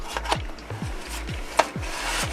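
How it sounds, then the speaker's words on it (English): A lens hood being screwed onto the threaded lens of an HD camcorder, giving short repeated scraping, rubbing strokes in a steady rhythm, close up and fairly quiet, with no talking. "So carefully, like before, just kind of screw it on."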